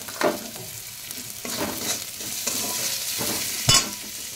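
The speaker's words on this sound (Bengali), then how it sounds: "পেঁয়াজটা আদা ভাজা হয়ে গেল, এবার এর মধ্যে দিয়ে দেবো নুন" Onion and ginger fry in a pan, a steady sizzle broken by several rough stirring scrapes spaced a second or so apart, close and moderately loud with no talking.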